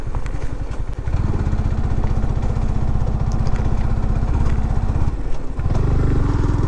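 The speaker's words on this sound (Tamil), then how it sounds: "ஃபஸ்ட்டு ஆஃப் ரோடிங் நம்ம பைக்கில்." A motorcycle rides off-road on a village track, its engine loud and close with a steady, throbbing mid-pitched drone and rattling clatter, dipping briefly twice as the throttle eases before pulling again.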